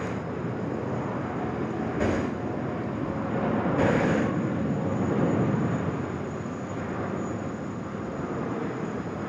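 British Airways aircraft departing Sydney Airport, bound for Singapore and London: a continuous distant jet roar that swells gently and then eases, steady and broadband with no talk over it.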